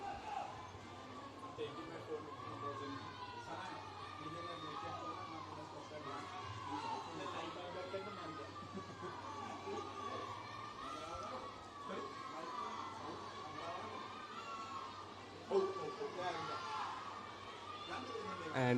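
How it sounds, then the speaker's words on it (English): Spectators chatter and shout at a children's swim meet during a girls' 9-year-old 50-meter backstroke heat, a steady indoor crowd murmur with scattered cheers and one sharper burst of shouting near the end. "we hear the crowd getting behind their swimmers to cheer them on"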